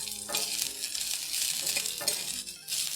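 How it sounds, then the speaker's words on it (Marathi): Cluster beans (gavar) roast in a little oil in a pan, giving a steady, close sizzle with soft crackles that run on without pause and with no talking. "आज थोडंसं तेल टाकून मी हे भाजून घेते"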